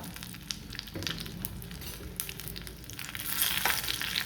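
Mustard seeds, curry leaves and whole dried red chillies crackle and sizzle in hot oil for radish chutney, with a continuous fine popping that builds slightly toward the end, close and alone.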